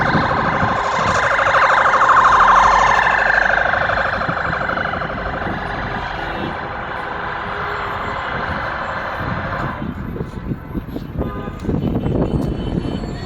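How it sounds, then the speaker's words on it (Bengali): A fire service truck's siren wails while approaching a blaze in Riyadh, Saudi Arabia, loud and steady at first, then fading and dropping away beneath rumbling traffic and engine noise. "ফায়ার সার্ভিসের গাড়ি আসলো কেবলে"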